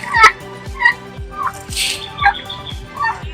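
A turkey gobbles in repeated rattling calls, fairly loud and close, with other bird cries and some background noise mixed in, on a farm in Nasugbu, Batangas.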